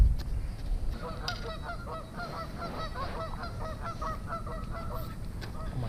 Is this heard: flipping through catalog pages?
no